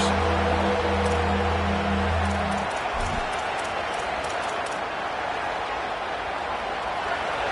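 A home stadium crowd in a football video game roars loudly on third down, a dense, sustained wash of cheering that swells and holds steady after a low rumbling start.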